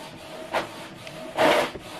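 A Canon TS9155 inkjet printer printing an alignment page, giving soft mechanical rubbing and whirring with two short louder carriage passes, heard close and alone.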